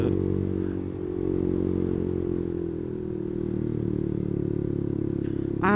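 Honda CS1 motorcycle engine while riding, a steady close drone held at constant throttle with a faint rattle and wind rush underneath, no talk.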